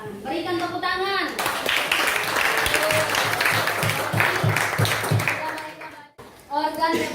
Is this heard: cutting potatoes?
no